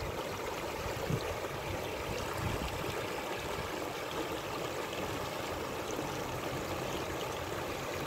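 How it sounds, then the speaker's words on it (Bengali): Water pours down like a small waterfall at a wadi lake in Taif, a steady broadband rush heard close and continuous throughout, with no voices. "কি সুন্দর পানি ঝর্ণার মতো নামতেছে"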